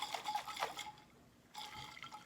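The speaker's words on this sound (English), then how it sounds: "I'm gonna shake it up. Make sure the honey gets dissolved." Honey and hot water shaken in a container, two short bursts of sloshing liquid separated by a quiet pause, close and faint.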